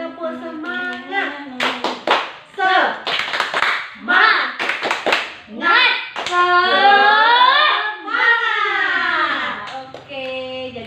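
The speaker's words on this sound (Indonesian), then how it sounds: "Kita tepuk semangat dulu yuk." A group of adults in a training session performs tepuk semangat, a rhythmic spirit clap. Sharp claps come in patterned bursts, mixed with loud chanted voices throughout.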